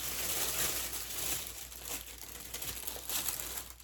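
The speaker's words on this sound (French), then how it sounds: "j'ouvre le beau papier de soie" Delicate tissue paper is unwrapped from an unboxed gift, crinkling and rustling continuously at close range with soft irregular crackles and no voices.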